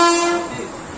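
A train horn sounds at Howrah railway station in Kolkata: one loud, close, sustained blast that slowly fades over about a second, with no talk over it.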